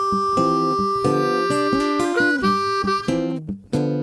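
A blues harmonica plays a short lick over the 1 chord, clear harmonic notes sliding and stepping, with bends and held tones and a brief breath gap near the end; close and solo.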